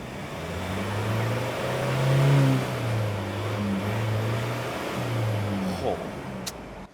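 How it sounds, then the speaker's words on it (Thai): A Ford Raptor 2.0 pickup's exhaust rumbles close by at idle, then swells through a few smooth revs and settles again, ending with a sharp click. "เดี๋ยวมาฟังเสียงท่อกันสักนิดนึง"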